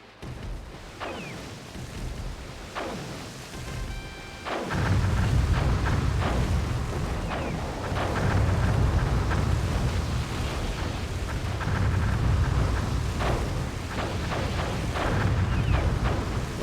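Naval galley artillery in the strategy game Cossacks: European Wars, with light cannons and mortars firing a steady string of deep booms and rumbling blasts over a low continuous roar.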